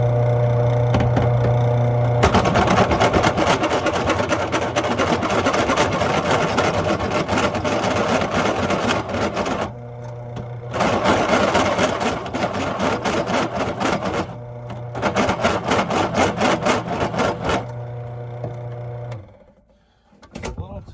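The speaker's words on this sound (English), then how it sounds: "I don't know if this drill press is actually designed for a 7/8 bit and steel" A drill press at 300 RPM bores a 7/8 inch bit into 1/2 inch thick steel, a loud steady grinding drone that runs for long stretches and briefly stops twice before ending, with a low motor hum underneath.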